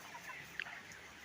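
Broiler chickens about 34 days old in a poultry farm shed let out one brief, faint cluck against a quiet background hiss.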